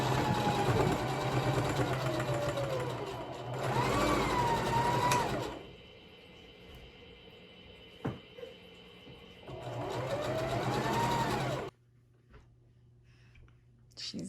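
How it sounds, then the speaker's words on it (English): A home sewing machine stitching a shirt into a dress, running in two loud close bursts of steady whirring with a quiet pause between them before it stops. "now I'm going to sew around on the same line where I stitched"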